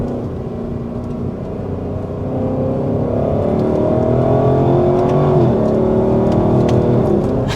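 A Lexus LC 500 engine revs hard through quick paddle-shift downshifts, a loud, continuous, rising and falling exhaust note with layered harmonics that swells after the first couple of seconds, with no talking.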